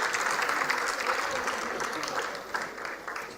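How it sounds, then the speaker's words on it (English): An audience at a university convocation ceremony applauds students sharing an award, a dense sustained wash of clapping from a large crowd in a hall, steady throughout with faint voices mixed in. "Let's clap loud."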